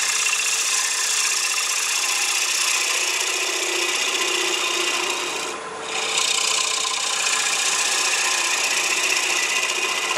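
A turning tool cuts a wooden bowl on a lathe, a continuous loud rasping hiss over the motor hum, with one brief dip partway through.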